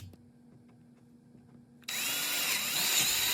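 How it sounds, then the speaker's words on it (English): A power drill bores holes at the corners of an outlet box outline marked on bead board paneling, the motor whining loud and close after a short quiet lead-in, with the bit grinding steadily into the wood. "the way I go about it is I cut a hole in each corner of that box"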